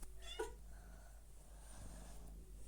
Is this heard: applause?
no